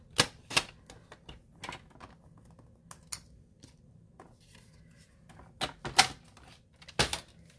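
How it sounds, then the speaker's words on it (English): Cardstock being trimmed with a paper trimmer, heard as a series of sharp, close clicks and slicing snaps spread irregularly, with quiet pauses between them. "I'm just going to trim this down since I have it right here."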